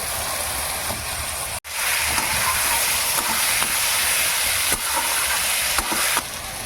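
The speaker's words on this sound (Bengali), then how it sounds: "এবার আমি টমেটোগুলো দিয়ে দিই।" Tomatoes go into a hot frying pan already holding fried onion and ginger for a spicy fish curry, giving a loud, steady hissing sizzle that continues throughout with one brief dip early on.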